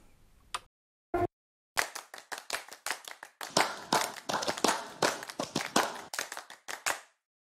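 Programmed clap samples from a Groove Agent drum kit in a pop ballad production: a sharp, loud sequence of rhythmic claps with short reverberant tails, after a couple of isolated hits and a brief pause, played alone without talk.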